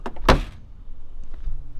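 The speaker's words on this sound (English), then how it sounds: "Drop this door down." The gullwing door of a 1955 Mercedes-Benz 300SL swings down and shuts with a single solid thump, followed by faint mechanical rattles and low rumble close by.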